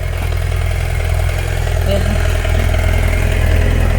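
A touring motorcycle idles steadily in Angola after repairs to its starting system and a coolant bleed that had caused overheating, a constant low engine hum running throughout with a brief spoken word over it.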